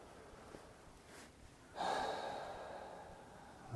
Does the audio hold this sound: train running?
no